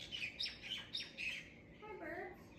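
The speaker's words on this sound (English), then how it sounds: "Hi, birds." Several birds squawk and chirp outdoors in a rapid series of sharp calls, moderately close, over a steady background with a voice faintly present.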